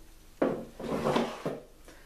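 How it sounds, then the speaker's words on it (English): Drawers holding fountain pens slid and set back into place: a sharp knock, a longer scraping rub, then another bump and a faint final tap, close and moderately loud. "just putting all my drawers back together with all the pens in them"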